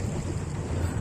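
Wind buffets the microphone during a boat ride on water in Nandankanan Park, a steady rushing roar with a low rumble and no voices.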